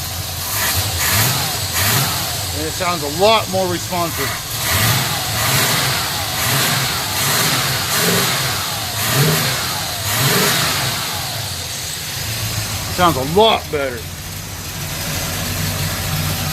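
A car engine, freshly tuned with regapped spark plugs and HEI ignition, idles steadily with a few sharp revs rising and falling, close by, while someone talks briefly over it.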